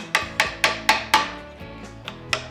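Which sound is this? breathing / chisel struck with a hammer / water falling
chisel struck with a hammer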